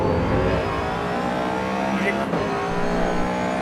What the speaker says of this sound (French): c'est un bon bruit de moteur, mais c'est pas du tout le bruit du moteur de la Mustang